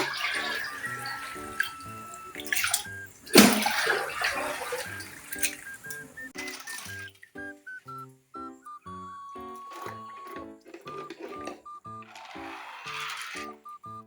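Water drains from a fish pond during cleaning, a close trickling and splashing flow that surges briefly near the start and then runs on more softly under steady tonal background sounds.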